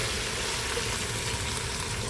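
Garlic frying in a pan gives a steady, moderately quiet sizzle and crackle throughout, with no voices.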